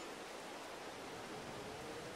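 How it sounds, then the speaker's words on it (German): Steady rain in Farming Simulator 22, a soft, even hiss that holds constant throughout with no other sounds or voices. "Ach, und das regnet."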